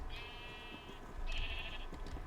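Minecraft sheep bleating, two drawn-out bleats in succession, fairly faint and alone, with soft ambient rumble beneath.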